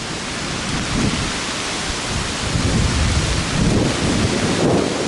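A thunderstorm pours heavy, continuous rain, with deep rumbles of thunder rolling underneath. The hiss stays dense and loud throughout, with no voices.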